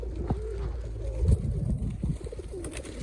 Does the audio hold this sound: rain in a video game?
no